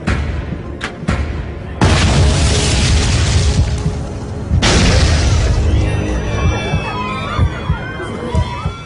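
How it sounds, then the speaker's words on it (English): Two loud explosions aboard an airliner in flight, each a sudden heavy boom followed by sustained roaring rumble and confused cabin noise, with tones sweeping through the aftermath. "Two explosions rock the plane."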